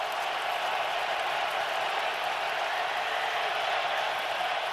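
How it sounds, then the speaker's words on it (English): Sustained crowd roar from Lions fans in a stadium during a Lions vs. Raiders NFL football game, a steady, dense wash of noise holding evenly throughout, heard from a broadcast distance with no clear talk. "the Raiders offense is going to deal with a lot of crowd noise tonight from these Lions fans"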